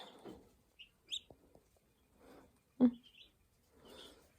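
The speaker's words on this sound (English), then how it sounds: "Say, I'm a chicken that got wet." A tiny, wet baby chick gives a few scattered high peeping chirps, close and faint, with a low-level quiet voice murmuring in between indoors.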